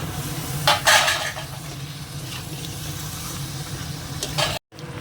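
Chicken pieces tipped into a pan of spiced masala made with green chilli paste and Kashmiri red chilli powder, sizzling steadily with scraping stirs and a couple of louder clatters of pan and spoon.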